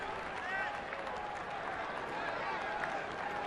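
A baseball stadium crowd of nearly 39,000 at a Reds versus Nationals game murmurs and cheers in a broad, distant roar with scattered clapping while a commentator talks over it.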